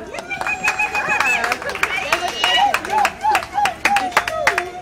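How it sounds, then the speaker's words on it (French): Wedding guests clap in scattered, uneven bursts of sharp claps, close by, while people talk and a voice speaks over the clapping. "On applaudit très fort"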